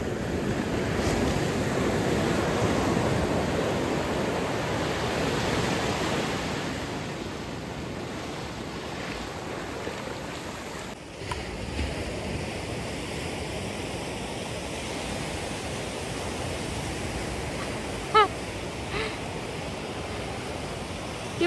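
Ocean waves break on a beach in a continuous, fairly loud surf roar that swells and eases over about twenty seconds, with a few faint clicks and no talk.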